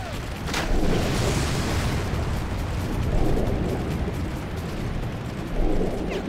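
Explosions in the video game Far Cry, heavy booming bursts rolling over a dense layer of game noise, with several louder swells across the stretch.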